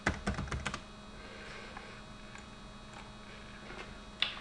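A file name typed on a computer keyboard: a quick burst of close key clicks at the start, then a few scattered single taps over a faint room hum.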